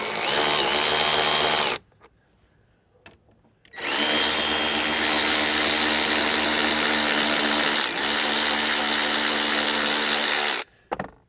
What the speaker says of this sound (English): So let's go ahead and use the wrench and get those out of there.